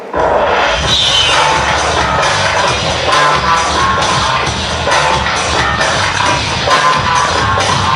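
Audience applause at a Korean presentation contest, a sustained, dense wash of clapping from a crowd that stays loud and steady throughout without any talk.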